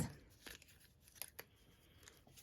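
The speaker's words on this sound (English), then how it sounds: "I'm getting to the end of some of my dimensionals, so I just cut them into pieces" Scissors snip through foam dimensional adhesive pads, cutting them into pieces for card making; a few quiet, crisp snips sound close up, scattered across a soft room background with no talking.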